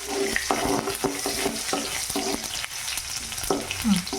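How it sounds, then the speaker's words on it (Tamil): Urad dal frying in hot oil, stirred with a metal ladle: a dense, continuous sizzle with rhythmic scraping clinks against the pan, close up and no talk. "பொரியும் போது நம்ம இந்த மாதிரி கரண்டி வச்சு கிளறிக்கிட்டுக்கலாம்"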